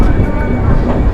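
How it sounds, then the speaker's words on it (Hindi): The Kerala Sampark Kranti Express rumbles along at speed at night, heard from on board as a loud, dense, low rolling roar with steady rail clatter. "अगर आपको ये चगिंग की आवाज़ सुननी है तो आप सुन सकते हैं।"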